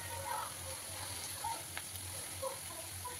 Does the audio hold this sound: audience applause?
no